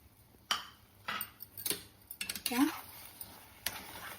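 Cardamom powder and dry fruits are stirred into semolina sheera made as a temple offering, with a spoon clinking and knocking against the pan in a handful of sharp, scattered strikes close by.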